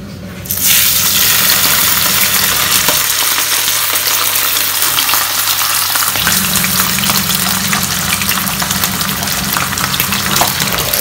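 Marinated milkfish (bangus) drops into hot oil and fries with a loud, dense, unbroken crackling sizzle that starts abruptly and carries on close up, with no voices.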